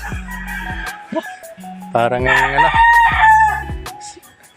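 A rooster crows loudly nearby amid clucking chickens, with a brief spoken word early on.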